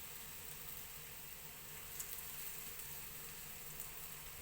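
Deep frying in hot oil while cooking aloo dum and dahi bora, a steady, even sizzle that runs throughout with small crackles near the front and no voices.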